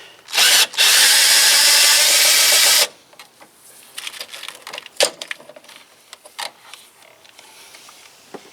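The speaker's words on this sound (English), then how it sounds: "just going to use my drill to make it a little faster" A cordless power drill whines loudly and steadily for about two seconds, driving out the engine mount bolts on a 1999 Honda Civic. Sharp metallic clicks, taps and clatter from the work on the mount follow.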